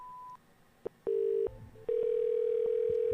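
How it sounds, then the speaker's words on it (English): A telephone line on a scam support call gives short tones, then a steady, loud tone that holds unbroken until the end, with a few clicks between. "It ringing."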